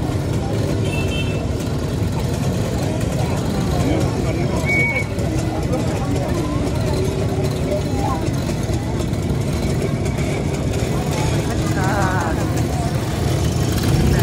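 A Motorynka moped races at a vintage vehicle rally in Mińsk Mazowiecki, its small engine droning steadily beneath constant crowd and speaker noise for the whole stretch, with no clear rise or pass-by.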